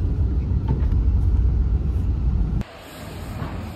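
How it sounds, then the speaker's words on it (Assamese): A new sleeper bus running between Dibrugarh and Guwahati, its engine a loud, steady, close rumble that cuts off abruptly partway through to a much quieter hum. "ইঞ্জিনটো তাতে আছে ন বহুত সেই হাল্লা হয়"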